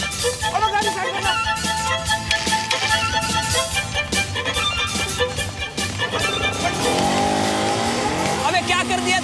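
Car pulling over to the roadside, engine revving and tyres scraping, with a brief skid-like squeal, under a loud music score and people talking.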